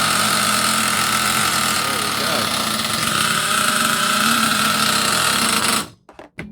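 A small high-revving HPI Savage 25 nitro RC car engine runs steadily on a bench with its exhaust fitted, at a loud, buzzing pitch, then cuts out abruptly near the end, leaving near silence.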